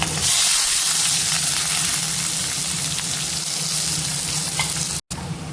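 Onions, dried and green chillies and garlic sautéing in hot oil in a pan make a loud, dense, continuous sizzle close by, with faint stirring and a brief cut near the end.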